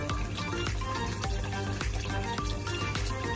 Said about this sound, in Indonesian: Nah, air terjunnya udah mulai kelihatan.